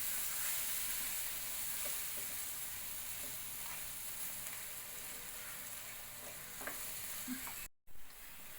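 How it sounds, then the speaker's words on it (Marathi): A milk mixture cooks in a pan for Aflatoon, the Mumbai sweet, giving a steady close sizzle and hiss with soft scraping as it is stirred, continuous and alone. "आता याचा आपण गोळा चांगला होऊपर्यंत आपण हे शिजून देणार आहोत"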